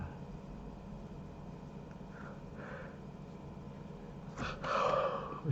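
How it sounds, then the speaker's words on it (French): A person yawning, a drawn-out breathy exhale that swells near the end above a faint background hiss. The yawn comes up close and is brief. "Excusez-moi, j'ai baillé."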